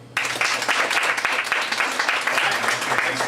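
Sustained applause from a large audience at a comedy hypnosis show, dense steady clapping running loud and continuous for the whole stretch with a faint voice underneath.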